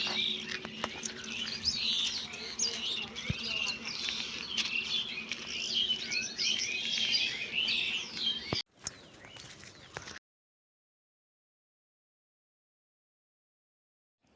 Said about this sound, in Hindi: पेड़ पौधा चिड़िया ये सब के आवाज़।